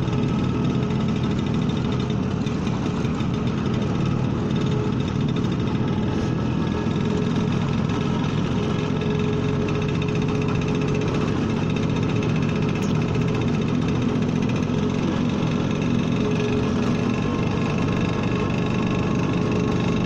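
A Vespa motor scooter idles in stop-and-go traffic, a steady low engine drone with constant vibration and road noise running the whole time, with no voices.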